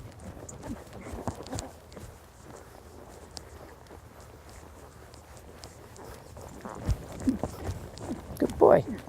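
A young eventing horse walks on an arena surface, hooves giving faint, soft, steady footfalls under low background noise, with a few louder knocks near the end.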